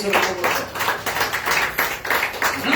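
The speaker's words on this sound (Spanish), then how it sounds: "¿Se aplauso para Dios?" A church congregation claps for God in dense, ragged bursts that swell and fade in waves, filling the whole stretch at moderate loudness with no voice over it.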